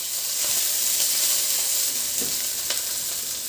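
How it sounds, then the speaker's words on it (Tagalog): Garlic and onion sautéing in a hot pan for pork pochero give a steady, close sizzle and hiss, with a few soft stirring scrapes and no voices. "Sa disim na kawali, igisa ko na yung bawang. Ilagay ko na rin yung sibuyas."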